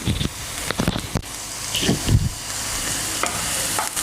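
Flour frying with onions in a pan, a steady close sizzle broken by scraping stirring strokes, with no voices.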